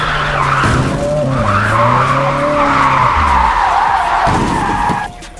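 A car drifts in Japanese Drift Master, its engine revving hard under a loud, sustained tire squeal that wavers in pitch for several seconds before cutting off abruptly near the end.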